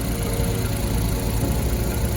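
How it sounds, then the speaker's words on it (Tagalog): The engine of a Suzuki DA63 4WD pickup runs at a steady idle, a close, even low rumble with slight vibration and no voices. "So pakita natin po mga ka-EBL yung makina natin."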